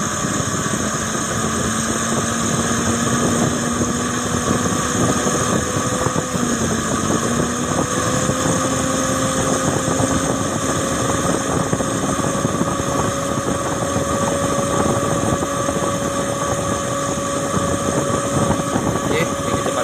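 An engine runs at full power and high RPM, a loud continuous drone with a steady tone that climbs slightly partway through and holds without a break.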